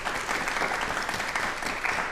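A studio audience at a television talk show applauds steadily, a dense, even wash of many hands clapping at moderate volume with no pauses.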